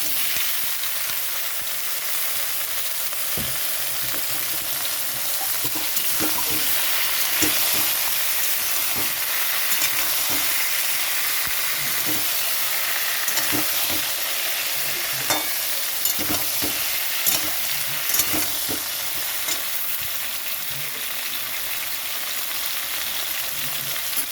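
Cut sponge gourd (dhundul) frying in a pan with dried red chilli, bay leaf and ginger, a steady close sizzle with scattered crackles and occasional stirring scrapes, no talking.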